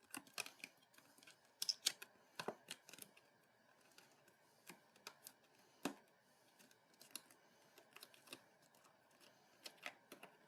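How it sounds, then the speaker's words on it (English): Scissors snip card in a quiet room for a Christmas box-in-a-card craft, a series of short, crisp cuts in an irregular rhythm, close and fairly faint. "cut in at these inside lines just up to the other mark"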